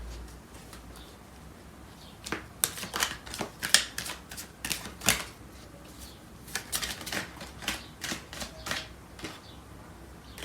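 Tarot cards are shuffled and drawn by hand, giving rapid bursts of crisp riffling and snapping, close and fairly loud, in irregular clusters with short pauses between them.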